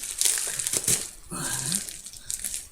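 Tape and cardboard of an Amazon parcel being pulled and crinkled open by hand, a rustling, crunching tear with a brief louder rip midway, close and alone.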